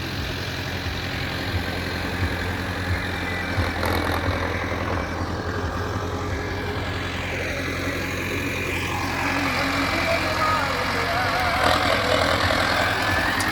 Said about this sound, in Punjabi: ਉਹ ਆਪਣਾ ਟਰੈਕਟਰ ਖੜਾ ਵਾ